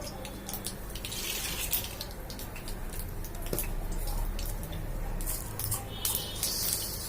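A constant crackling sizzle of mustard seeds popping in hot oil for tempering a curry, with scattered sharp pops over a steady frying hiss.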